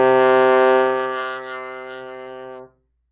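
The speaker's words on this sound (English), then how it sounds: "and then C should sound like this." A trombone sounds a single low C in sixth position with the slide all the way out, one loud, close, sustained note of about two and a half seconds that swells slightly and then cuts off cleanly.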